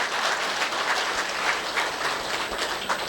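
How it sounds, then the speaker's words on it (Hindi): An audience at a spiritual class gives itself a round of applause, a continuous, even wash of many hands clapping that stays steady and moderately loud throughout, with no voices over it. "पहले अपने लिए सब ताली बजाओ।"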